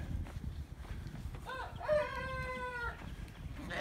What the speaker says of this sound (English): sound like we got a up and coming rooster